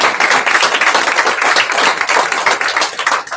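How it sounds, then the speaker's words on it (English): Audience applause at a hairdressing seminar, a dense, steady wash of many hands clapping at full volume from start to finish. "Please put your hands together for all of you."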